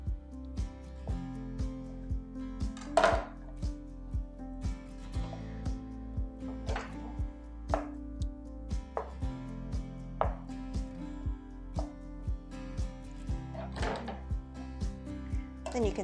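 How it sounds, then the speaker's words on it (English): Knife cutting a block of tofu into medium-sized cubes on a cutting board, a steady run of soft, evenly spaced thunks against the board, close and fairly quiet, with a few sharper taps mixed in. "The other option is you can cube the tofu."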